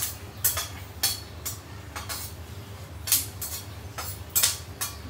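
Nuts and seeds dry-roasted in a pan without ghee, stirred so they scrape and clink against the metal in sharp, irregular bursts roughly every half second to second, close and fairly quiet, with no talk.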